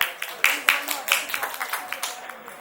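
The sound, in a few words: audience round of applause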